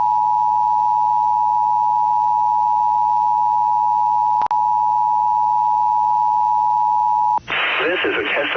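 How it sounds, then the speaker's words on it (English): NOAA weather radio warning alarm, a loud continuous steady tone held for about seven seconds, then cut off by a burst of broadcast sound. "This is a test of the NOAA radio warning alarm and e-signal."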